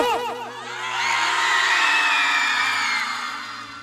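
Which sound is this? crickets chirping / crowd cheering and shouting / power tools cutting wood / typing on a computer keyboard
crowd cheering and shouting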